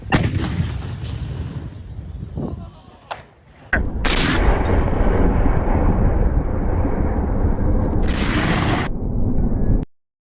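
Musket volleys fired on command during a military history reenactment, with loud booming rolling blasts, a brief lull, then heavy sustained gunfire with two sharp cracks before cutting off abruptly.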